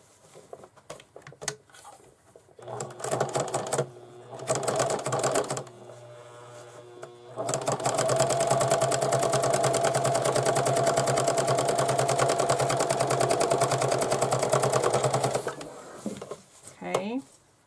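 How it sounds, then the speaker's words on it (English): A sewing machine stitching canvas to a zipper, with a few short bursts of rapid mechanical stitching, then a long steady run lasting several seconds, close and clear, with brief pauses between passes. "Now I'm going to sew my other piece of canvas to the other side of the zipper"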